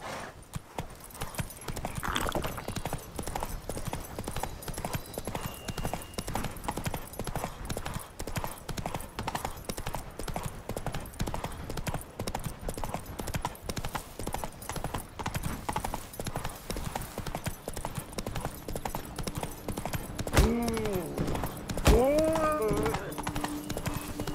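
Horse galloping in The Witcher 3, a fast steady clip-clop of hooves running continuously, with a brief whinny near the end and no talking.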